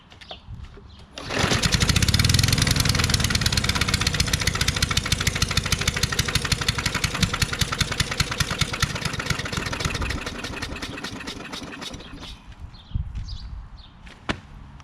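A Craftsman push mulching lawnmower with a Briggs 550EX engine starts up and runs rough nearby, its loud, uneven chugging pulsing and surging for about ten seconds before it dies down with a few sputters.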